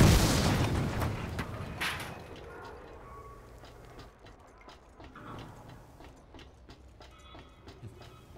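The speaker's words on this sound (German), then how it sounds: "Fröhliches Explodieren." A loud explosive boom with a burst of crackling debris opens the clip, then fades into rumbling, clattering sounds with scattered clicks in the video game Mad Max.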